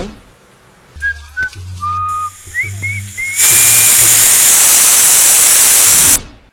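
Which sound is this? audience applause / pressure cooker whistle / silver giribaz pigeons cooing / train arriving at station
pressure cooker whistle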